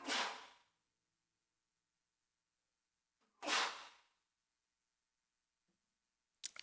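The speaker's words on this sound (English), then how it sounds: "Also, I have to sneeze." Two sharp, loud sneezes several seconds apart, each a bright burst that fades quickly, from a one-man-band looping musician, with silence between and a faint noise at the end.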